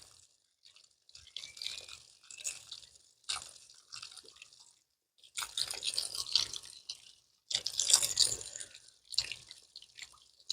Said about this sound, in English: So that's just the hose being turned on a little bit.